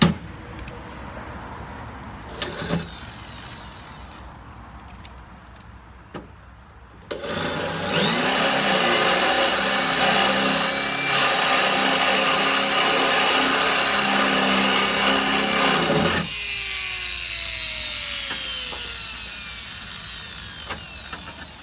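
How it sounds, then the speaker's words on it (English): A power drill bores into a part for a custom Scorpion snowmobile mock-up build, a loud continuous whine lasting about nine seconds close by, preceded by quieter workshop handling and followed by fading clanks. "Guess I should have just drilled it a little more."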